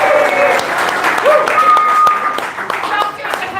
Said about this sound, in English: a much briefer round of applause for our secondary presenter, Dr. Fionnuala O'Connor.